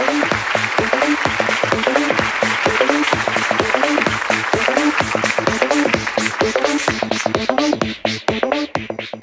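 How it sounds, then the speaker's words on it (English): Loud, close applause from an awards ceremony audience, rapid and continuous clapping that begins to thin into scattered claps near the end. "let's keep that applause going"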